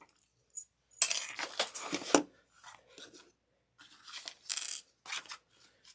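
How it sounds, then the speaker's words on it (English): Small metal zipper pull picked up and handled for a coffin-shaped wallet craft project, heard as close, sporadic clinks, rattles and crinkly handling noises in short bursts separated by silence. "We're going to grab our zipper pull."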